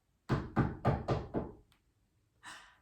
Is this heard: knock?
yes